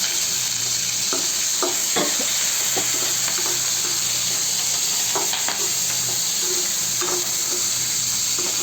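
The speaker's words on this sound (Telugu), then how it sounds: "నెక్స్ట్ టమాటాలు ఇలా ఫ్రై మంచిగా చేసుకోవాలి" Tomato quarters and curry leaves fry in a pan for tangy mint chutney, a steady broadband sizzle with occasional clicks of a spoon stirring, close and continuous with no talking.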